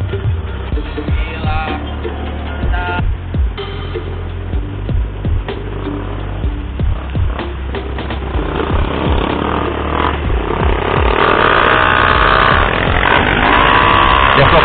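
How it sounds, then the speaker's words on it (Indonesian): A Bajaj Pulsar 200 NS motorcycle is ridden on a busy holiday-weekend night. The engine drones steadily up close, with repeated rises as it revs and accelerates, and some voices come through under the engine noise. "Cuma ini motor harian."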